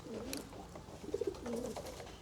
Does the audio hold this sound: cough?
no